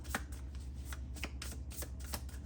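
A deck of tarot cards is shuffled by hand, a steady run of soft riffling flutters and light card slaps close up, with no voices.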